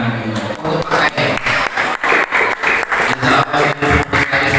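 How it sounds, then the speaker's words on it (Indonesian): Audience at a mosque religious lecture clapping in a steady, rhythmic burst of hand claps, fairly loud and close, with some voices mixed in. "Tepuk tangan."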